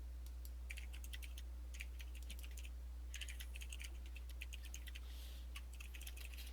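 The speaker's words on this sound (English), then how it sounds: "I can hear you typing, Cogsworth." Computer keyboard typing during an online Dungeons & Dragons session: faint, quick bursts of clicking keystrokes separated by short pauses, over a steady low electrical hum, with no talking.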